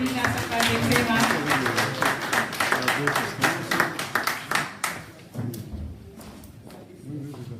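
An audience at a formal ceremony claps for Madame Céline Assamba Texeira, scattered uneven hand claps that thin out partway through, with a voice speaking over them.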